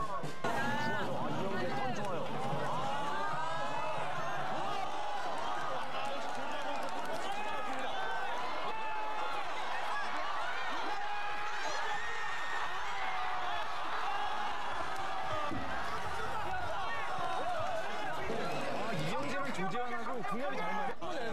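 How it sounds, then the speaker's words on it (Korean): Fans of two rival teams cheer from the stands at a sports match: a dense, sustained wash of many chanting and shouting voices runs throughout, swelling and dipping without a break. "관중석에서도 팽팽한 양팀의 응원 공방전"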